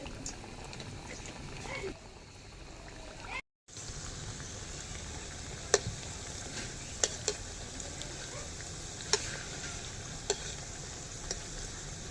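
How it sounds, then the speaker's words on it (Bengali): Gram flour snacks deep frying in a pan of oil, a soft continuous bubbling hiss with a few sharp clicks from utensils, fairly quiet and close, after a brief dropout near the start. "আর এক খোলা মতো তেলে ভাজা হচ্ছে"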